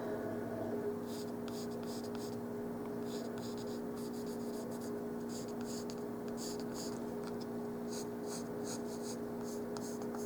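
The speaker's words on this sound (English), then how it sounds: "I decided to hand letter this time rather than using the Cricut." A pen scratches and taps softly while hand lettering a tiny apple porch sign for a dollhouse miniature, intermittent short strokes over a steady low background hum.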